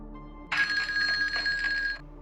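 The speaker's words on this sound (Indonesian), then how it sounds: "Saat itu telepon berdering." A telephone rings in a single electronic burst lasting about a second and a half, bright and fairly loud over a low steady hum.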